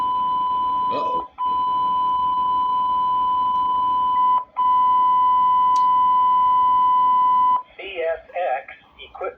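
A railroad equipment defect detector alert in a train simulator game, a long steady electronic tone broken by two brief dropouts, followed by the start of a synthetic announcement voice.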